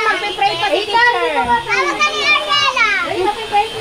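A classroom of children at a Teachers' Day event chatters loudly, with a dense, unbroken babble of overlapping high voices close by.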